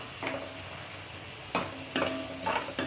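Vegetables, cut fine like chips, frying and being turned in a little oil, with a steady low sizzle and a few scraping stirs and utensil clicks.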